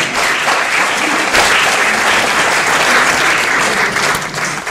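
A live audience at a library event applauds an absent guest, a loud, steady wash of clapping from many hands with no voices over it.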